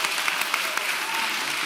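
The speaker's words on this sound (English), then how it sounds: "just let them clap for me" An audience claps in a brief, dense burst of applause, close and fairly loud, lasting under two seconds.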